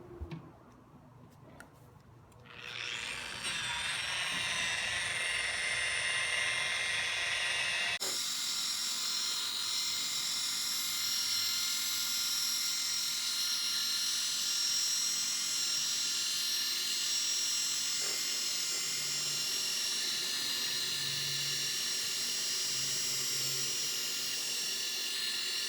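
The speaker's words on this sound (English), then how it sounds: "You can probably already see that the lens is clearing up little by little just by doing some sanding here." A power sander working on a cloudy car headlight lens, a steady high whir that starts after a brief quieter moment and runs loud and constant to the end with no talking.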